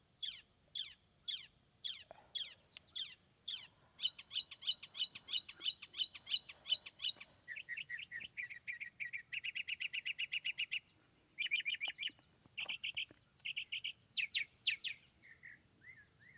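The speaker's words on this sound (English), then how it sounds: "the bird is still singing up there now that the sun is out" A northern mockingbird sings from a treetop on a sunny day, rapid repeated chirps and trills in varied phrases, clear and fairly close against a quiet outdoor background.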